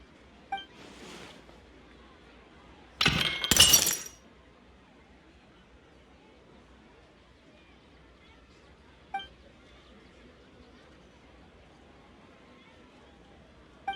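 A ceramic vase shattering in the video game Genshin Impact: one sharp, bright crash of about a second, followed by a faint clink, with quiet game ambience and no talk during the break.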